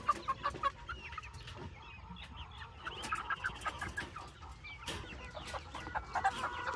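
Young chickens cluck and peep nearby on a family homestead as they are moved, with scattered rustling and short bursts of calls throughout.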